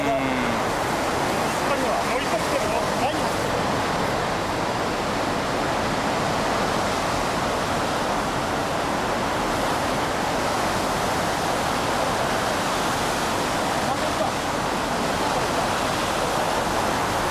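Tsunami water from the 2011 disaster in Japan surges in with a broad, constant rushing roar that stays even throughout, with faint voices mixed underneath.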